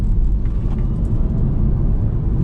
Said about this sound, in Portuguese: se basicamente eu pisar fundo no acelerador, full pedal até o assoalho, ele vai me entregar o torque total